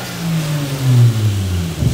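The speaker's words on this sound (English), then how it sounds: "Car revs up really nice and cleanly." A Toyota Supra with a swapped-in 1JZ engine revs cleanly up and back down, loud and close, a brief rising and falling engine note.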